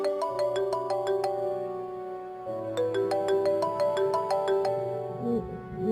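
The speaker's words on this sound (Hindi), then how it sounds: "मेरा ख्याल है मीटिंग वालों का ही फोन आ रहा है।" A mobile phone's melodic ringtone plays in an indoor scene from a Pakistani TV drama, a bright tune that repeats loud and close, pausing briefly before starting again.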